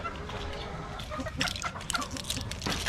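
A two-year-old Boston Gold gamefowl clucks nearby in short, scattered bursts over a low background hum on a farm, with no talk.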